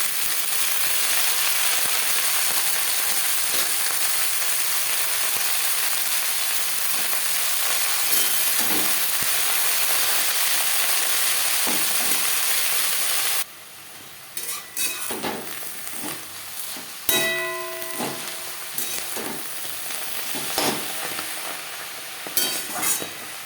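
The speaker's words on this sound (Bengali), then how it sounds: "লঙ্কা ভেজে নেওয়ার পর দিয়ে দেবো সার" Telakucha greens frying with chillies in hot oil, a steady loud sizzle throughout, then quieter stirring with a spatula scraping and clinking against the pan.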